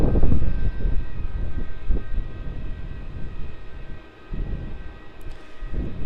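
A jet airliner rolls off runway 16 at Melbourne Airport, its engines a loud, steady low roar with a faint whine on top, gradually easing and fading slightly over several seconds.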